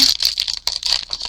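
Paper from Temu is handled close up, giving bursts of crisp rattling and crinkling in an uneven rhythm with brief pauses, with no talk.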